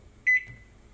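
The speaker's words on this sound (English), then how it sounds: "Then I'm going to throw this sucker in the microwave." A microwave oven gives a single short, clear electronic beep, close by and alone in an otherwise quiet kitchen.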